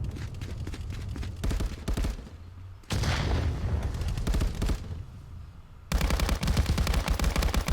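Gunfire in a competitive video game firefight, rapid automatic bursts and repeated shots in dense clusters with brief lulls between them, loud and close throughout with no voices.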